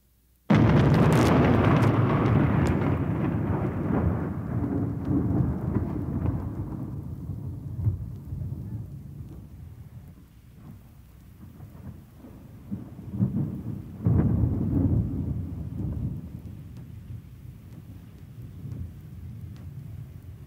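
A thunderstorm with rain: a loud, long rumbling thunder roll opens and slowly fades over several seconds, and a second swell of rumbling follows midway, all over a steady hiss of falling rain.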